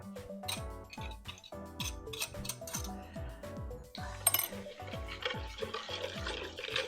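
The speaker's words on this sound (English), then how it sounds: "I'm going to whisk it up." A whisk beats a thick yogurt and olive oil marinade in a bowl, giving quick, repeated scraping and clinking strokes of metal against the bowl, close and fairly quiet.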